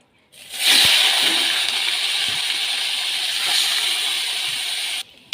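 Pieces of fish drop into hot oil in a kadai and sizzle loudly and steadily, a dense close hiss that holds for several seconds before cutting off.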